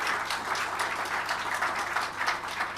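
Audience at a formal ceremony in Côte d'Ivoire applauding steadily, a dense even patter of many hands clapping at moderate distance, continuous throughout with no speech over it.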